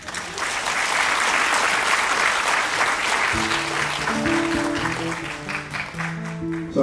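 A concert audience at Hong Kong City Hall applauds with steady, full clapping that gradually thins. Sustained musical tones enter partway through.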